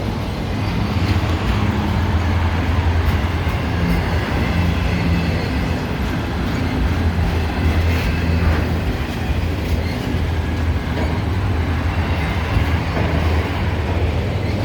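Freight train loaded with new cars and pickups on auto transport wagons rolls past, a continuous loud rumble with wheel clatter and rail squeal persisting for the whole stretch, no voices.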